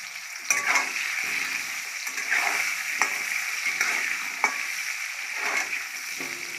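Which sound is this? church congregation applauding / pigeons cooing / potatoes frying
potatoes frying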